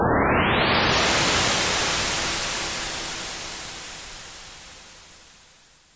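A synthetic impulse response processed through Valhalla Shimmer reverb: a burst of broadband noise whose upper range sweeps in quickly, then a long smooth wash that decays gradually over several seconds into quiet.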